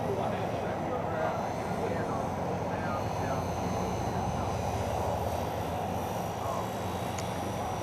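Super Cub RC model airplane with a brushed electric motor, flying in windy conditions, giving a steady droning buzz at moderate distance under wind noise, with a voice talking over it.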